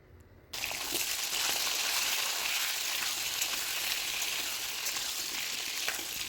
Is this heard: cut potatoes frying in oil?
yes